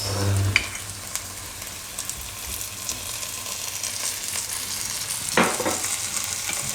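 Flattened-rice manchurian is stir-fried in a pan with soy sauce and red and green chilli sauces, producing a close, continuous sizzle broken by scattered clicks and scrapes of the stirring spoon.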